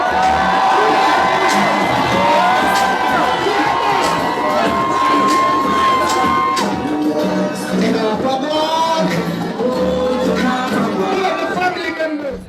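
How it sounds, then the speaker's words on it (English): Crowd at a Nine Night memorial gathering with family and friends cheers, whoops and shouts in a loud, continuous swell, with mingled voices and chatter running throughout. "Make some noise for Sonia!"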